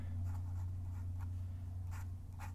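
Chalk or marker strokes on a lecture board, with short scratchy bursts spaced irregularly as an equation about angular momentum is written, faint over a steady low room hum.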